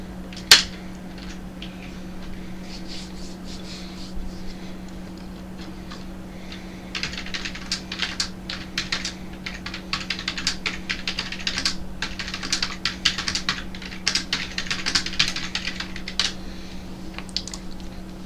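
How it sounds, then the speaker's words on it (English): Quick typing on a computer keyboard, a steady stream of light clicks that starts sparse and grows denser and faster in the second half, close and alone over a low steady hum. "I have to type quite quick for that."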